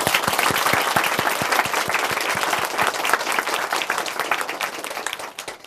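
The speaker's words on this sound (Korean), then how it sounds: "응원의 박수 보내드리겠습니다" Enthusiastic audience applause in a church testimony broadcast, with many sharp, closely packed claps ringing out loud and continuous before slowly tapering near the end.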